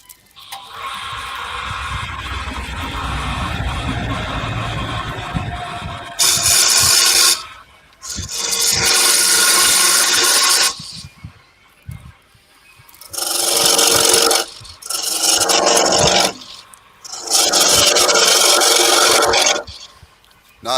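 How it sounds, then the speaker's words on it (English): A spindle gouge cuts wood on a lathe in loud rasping bursts, first one long stretch and then several separated passes with short pauses between them, close and with no voices. "Just keep using your spindle gouge"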